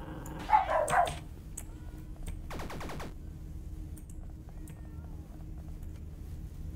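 Dog barking in the horror-tinged pet video game Bark: a few close, loud barks or yelps early on, followed by a harsher growl-like burst, then a steady low game ambience.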